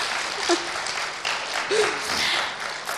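A room audience claps continuously in encouragement during an interview, with a few voices calling out briefly over the close, dense applause.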